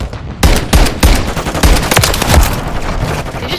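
A light machine gun fires in Modern Warfare 3: loud, sustained rapid-fire bursts with heavy low thumps, running almost continuously with only a brief quiet gap before it starts.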